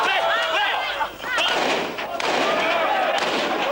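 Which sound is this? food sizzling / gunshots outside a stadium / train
gunshots outside a stadium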